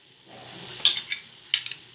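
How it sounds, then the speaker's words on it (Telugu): Moong dal barfi mixture of sugar and ghee being stirred in a pan, a soft steady sizzle broken by two sharper scraping strokes of the spoon against the pan, close and clear with no talking. "ఇప్పుడైతే ఇది గట్టి పడేంత వరకు ఇలాగనే కలిపేసుకోవాలి"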